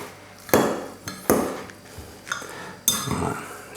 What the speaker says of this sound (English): we're going to mix this up just very gently